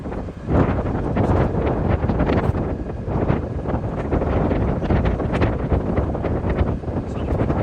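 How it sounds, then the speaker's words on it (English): Strong wind buffets the microphone in a constant roaring rush aboard a boat in the Bahamas, loud and close, with no clear voices. "It's been windy, but not great."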